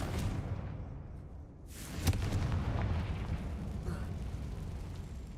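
A fiery blasting spell goes off in Hogwarts Legacy, a sudden booming burst over a low, rumbling game soundscape that fades afterward.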